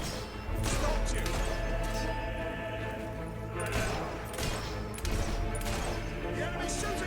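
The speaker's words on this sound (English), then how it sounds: "The enemy's shooting at us!" Enemy gunfire in the video game Fable III, continuous crackling volleys and crashing impacts layered into a dense, loud battle din with bursts of sharper shots.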